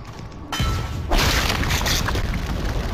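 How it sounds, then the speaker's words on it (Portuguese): A video game explosion in Dante's Inferno, played through an emulator, bursts out as a loud booming blast that swells again a moment later into a sustained roaring crash. "Aquilo foi explosão."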